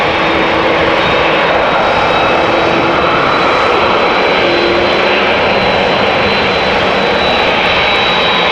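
A KLM Boeing 737-900 jet at Amsterdam Schiphol Airport, a loud, steady engine roar with a sustained high whine, close by and unbroken for several seconds, with no voices.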